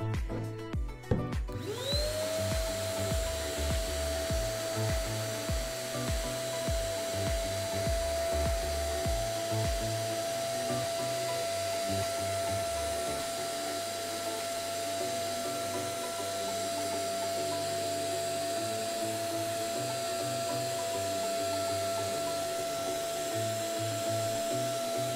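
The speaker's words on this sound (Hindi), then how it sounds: "मैं वैक्यूम क्लीनर लेता हूँ और इसको सीधा यहीं से डायरेक्ट मारता हूँ" A vacuum cleaner with a brush attachment works over a dusty Panasonic HEPA humidifier air filter: a steady, loud motor whine that rises in pitch as it spins up, with brushing and scraping rattles early on, then a continuous drone.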